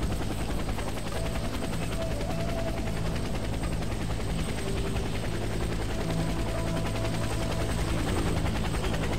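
A steady, whirring helicopter rotor in a video game drones continuously at a constant level, with faint tones layered on top.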